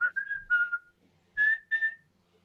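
A person whistles a short melody of clear sustained notes in two phrases separated by a brief pause, close and fairly loud, with no talking.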